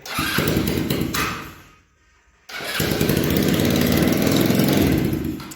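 A loud Mondial 150 RF motorcycle engine with a raspy, open, modified exhaust runs, cuts out briefly into near silence, then starts again and roars steadily.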